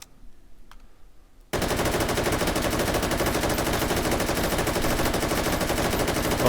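Rapid continuous gunfire from a Malyuk assault rifle in a VR game begins abruptly after a quiet moment and stays loud and dense to the end, with no talk.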